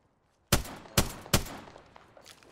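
Apex Legends gunfire: three sharp, loud shots spaced about half a second apart crack out of near silence, each trailing a short echoing decay, with fainter scattered pops afterward.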